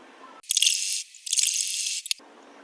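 A sewing machine stitches a pleat on a belted blouse in two loud whirring runs, each about half a second to a second long, separated by a short pause, with a sharp click near the end.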